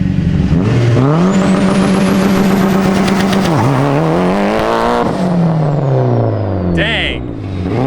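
A Mitsubishi Evo wagon's engine revs hard while driving, pitch sweeping up and down through gear changes, loud and close from inside the cabin, with brief talk over it.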